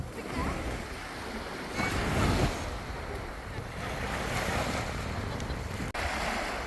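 Waves washing onto a beach near the Saudi border, a soft continuous surf wash with gusts of wind noise on the microphone, one swell rising briefly, with no clear talk.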